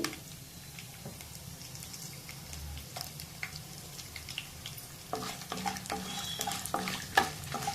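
Peanuts fry in a pan of oil while making lemon rice, giving a steady low sizzle that turns into louder crackling, stirring and scraping near the end, with no voices.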